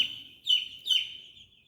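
Baby chicks in a brooder of about 75 birds give high, thin peeping chirps, a couple of clear close calls over a steady faint chorus, with no talking.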